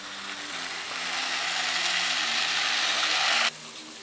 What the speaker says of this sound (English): the intake, man, you just rinsing it out now